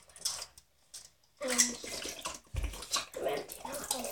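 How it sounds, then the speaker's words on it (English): Water being poured out and emptied indoors, a few splashing gushes in bursts, fairly faint, with background noise between. "emptying out the water"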